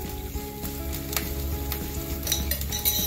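Schezwan chutney sizzling in a pan with paneer and vegetables for chilli paneer, a steady close frying hiss broken by spoon scrapes and clinks against the pan, with no voices.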